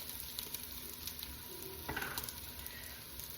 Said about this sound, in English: So now we're gonna add the garlic and let that cook in too.